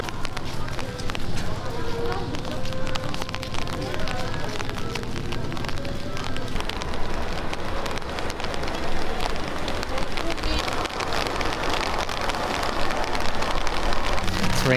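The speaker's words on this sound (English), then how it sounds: "It's raining so hard" Heavy rain pours steadily on a busy weekend street in Taipei, a dense, continuous hiss that runs the whole time with people talking over it.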